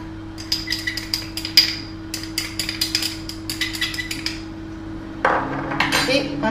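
A spoon clinks and taps rhythmically against a bowl as blueberries are mixed with cornstarch, a series of sharp close knocks over a low steady hum, ending in a louder rustling scrape.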